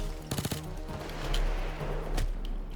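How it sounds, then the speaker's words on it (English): Sniper gunfire in the video game Payday 2, a quick burst of sharp cracking shots near the start, then a few more isolated shots over a droning game background. "And a fucking sniper got me."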